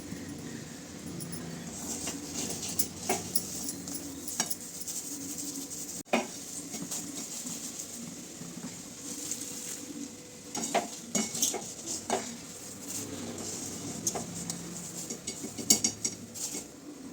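Roasted salted peanuts are scraped out of a pan and spread out, making close, irregular metallic scrapes and clinks with a faint rattle of nuts. Soft hiss continues in the background, and the bursts of scraping cluster toward the end.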